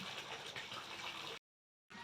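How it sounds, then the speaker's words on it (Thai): Water pours into a sacred waterfall pool at a Thai temple, Wat Phrai Phatthana in Si Sa Ket, a steady close rushing splash that holds for over a second, cuts out briefly, then resumes. "ส่วนตรงหน้าผมนะครับที่ผมเดินมานะครับจะเป็นอ่างน้ำตกเทวดาศักดิ์สิทธิ์นะครับ"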